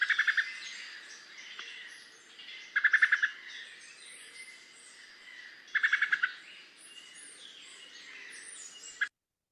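A wood thrush gives three repeated bursts of rapid, sharp call notes at a steady interval, with a last short note at the end. Faint, overlapping birdsong carries on in the background.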